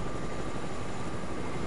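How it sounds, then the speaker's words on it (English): Helicopter flying overhead in a multiplayer shooter video game, a steady, broad rotor-and-engine roar that holds at a constant level throughout without breaks. "Oh, there's a chopper. Above us."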